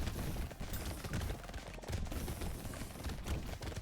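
Submachine gun fire in the video game Brotato, where a mage build fires SMGs at danger level 5: a dense, continuous rattle of rapid shots and impacts, fairly quiet, with no talk.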